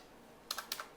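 Keys tapped on a computer keyboard while typing a search into Windows settings on a PC or laptop: four quick, light keystrokes in close succession, faint and near, with no voices.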